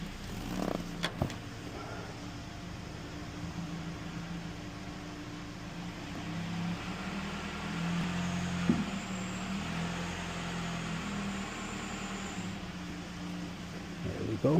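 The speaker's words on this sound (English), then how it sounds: "now we're going to bring the vehicle up on the ramp" A vehicle lift raising a 2012 Nissan Rogue in a service bay, a steady low mechanical hum that runs continuously with a few brief clicks and knocks, fairly quiet throughout.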